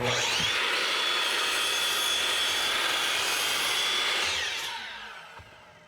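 A steady, continuous saw cutting through a wooden fence picket, running loud and even for several seconds before tapering off as the cut finishes.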